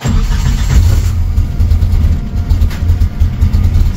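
A Suzuki Samurai engine converted to Holley Sniper EFI fuel injection runs loud and close, with a steady low rumble and slight surges in revs, right after it starts. No one speaks.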